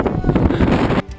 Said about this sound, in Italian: il vento inizia a soffiare veramente forte. Era proprio una bufera di neve